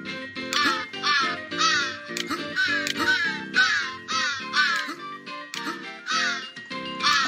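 Ravens in the video game Santa Claus In Trouble, harsh repeated caws arriving in a steady, rapid series, loud and close with overlapping calls.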